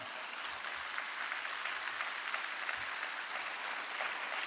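A church congregation applauds during a Sunday afternoon worship service, a steady wash of many hands clapping at moderate distance that holds evenly throughout without any voices over it.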